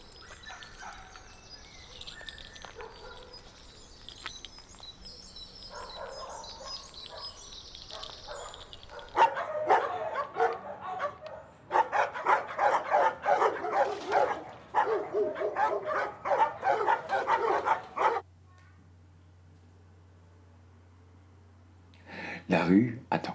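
Several dogs bark and yip in quick bursts on a city street, loud and fairly close, with whimpers between barks and people talking before and around them.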